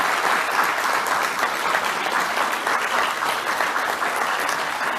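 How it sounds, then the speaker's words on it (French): Steady, dense applause from a conference audience, the clapping sustained and even throughout with no voices above it. "on peut l'applaudir"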